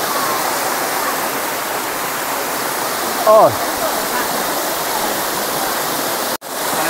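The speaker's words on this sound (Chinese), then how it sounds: "但呢个瀑布嗰啲水量都几多喎" A waterfall with plenty of water pours in a steady, loud, broadband roar near a stream on a countryside walk in Zengcheng, Guangzhou, with a brief voice heard in the middle.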